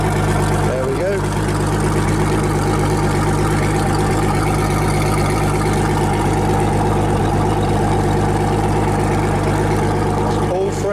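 An outboard boat engine idles steadily while being flushed with fresh water to clear out salt after a sea trip, a constant low mechanical drone running throughout with some talk mixed in.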